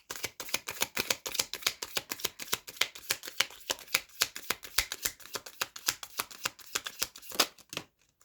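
Tarot cards being shuffled by hand in a fast, steady riffle of crisp papery flicks that runs continuously for several seconds, close and clear, then stops abruptly near the end.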